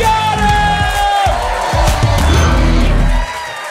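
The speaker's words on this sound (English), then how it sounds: "keep that round of applause going" A comedy club audience at a late-night stand-up show cheers and applauds loudly and continuously, with whoops and a host's voice booming over the crowd noise before it cuts off near the end.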